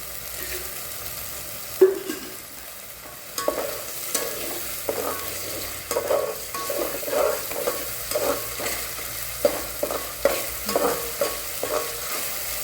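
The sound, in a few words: vegetables frying and being stirred in oil in a pan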